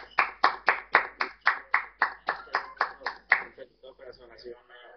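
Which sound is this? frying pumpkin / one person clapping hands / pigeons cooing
one person clapping hands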